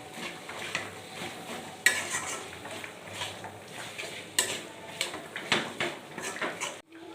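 Chopped coriander leaves and cabbage are stir-fried in a spice masala for winter khichuri. A ladle scrapes and clatters against the pan in uneven strokes over a soft, steady sizzle, with no talking.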